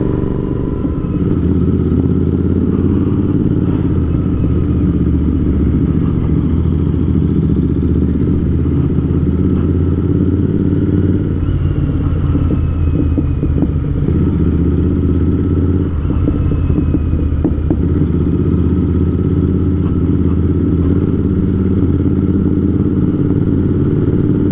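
A Royal Enfield Interceptor motorcycle rumbles with a deep, loud, continuous engine and exhaust note, rising in bursts as it revs while riding.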